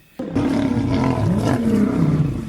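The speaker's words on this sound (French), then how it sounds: "Soudain, un rugissement se fit entendre." Several powerful lionesses roar together in a wild, rocky setting, a loud sustained roar starting suddenly after a brief silence and continuing close and full for the remaining seconds, with no talk.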